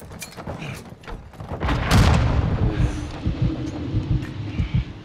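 A grenade explosion in Call of Duty: Modern Warfare II, a heavy low boom that rolls and rumbles for several seconds amid scattered gunfire and battle noise.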